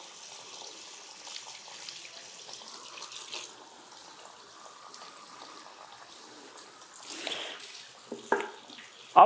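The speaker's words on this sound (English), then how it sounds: "you should gently rinse off the foam. The water should not be cold, it should not be hot, it should be the warm water with the low pressure" Warm, low-pressure water runs from a tap to rinse off foam, a soft, faint trickle and splash continuing throughout, with a few louder splashes near the end.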